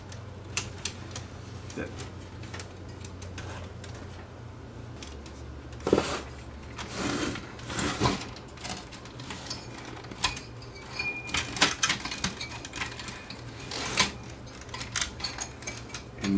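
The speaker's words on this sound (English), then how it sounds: "Got to cut a bunch of wire ties on here that are in place." Wire ties inside a Sansui R7 receiver are cut one after another, producing scattered sharp clicks and snips close by, while a voice speaks intermittently.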